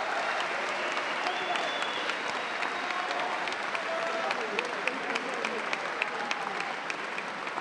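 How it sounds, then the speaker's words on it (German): A boxing arena crowd applauds the two fighters before an IBO world championship bout, a steady, even wash of clapping from many hands at a distance with faint crowd noise beneath. "Applaus für die beiden Boxer"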